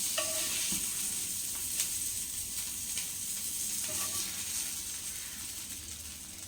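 Fish frying in hot oil gives a steady, close sizzle and crackle, with occasional stirring clicks and no talking.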